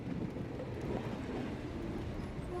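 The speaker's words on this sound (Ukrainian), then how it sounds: "Поїздом з Англії до Швейцарії." A train travelling from England to Switzerland in the game Sherlock Holmes: The Awakened, heard as a steady, low, continuous rumble of carriages at a modest level, with no talk over it.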